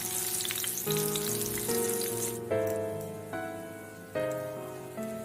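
Long-cut bitter gourd frying in hot oil for shukto, a dense steady sizzle with a few louder bursts as pieces hit the oil, close up and without any talk.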